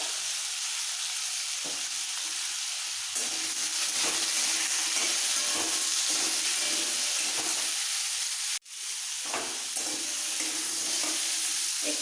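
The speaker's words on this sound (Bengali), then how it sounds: "আলুগুলো তেলের মধ্যে একটু নাড়াচাড়া করে দিয়ে দেবো" Potatoes stirred and fried in oil with salt and turmeric for a radish ghonto: a continuous close sizzle with spoon scrapes and shuffling, briefly cutting out near the end before resuming.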